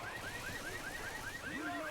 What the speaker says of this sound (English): they're going to trigger the alarm